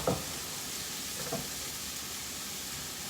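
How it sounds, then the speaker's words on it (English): Eggs sizzle steadily in a frying pan while they are stirred, giving a soft, continuous hiss with a couple of faint scrapes near the start and no speech. "we're just gonna stir up the eggs, cook it up"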